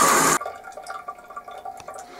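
Hot water drains from the tap of a Buderus Logalux S160 hot-water storage tank: a short, loud rush of flowing water cuts off abruptly, leaving faint, irregular drips and trickles.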